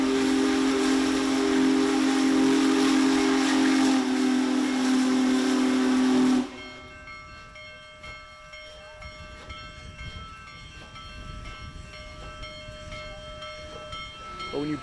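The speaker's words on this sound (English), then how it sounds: "when you bring the world's largest steam locomotive, the big boy" Union Pacific Big Boy, the world's largest steam locomotive, blowing a loud, sustained steam whistle over hissing steam for about six seconds, then a sudden drop to quieter hissing and low rumbling with a faint crowd in the background.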